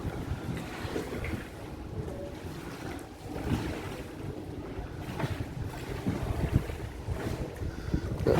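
Gondola gliding along a Venice canal, with gentle water lapping, low rumbling wind and boat noise close to the microphone, steady and continuous without voices.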